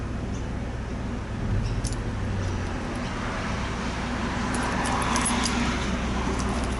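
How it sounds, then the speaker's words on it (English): A CB8 Monaro car with bad injectors idles in the background, a faint, steady low engine rumble under outdoor ambience with a few light metallic clinks. "You hear that car in the background?"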